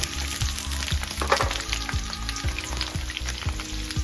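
Potato and raw green banana pieces sizzle in hot oil in a pan while cooking shukto, a steady bubbling fry punctuated by regular stirring scrapes, close and moderately loud with no voices.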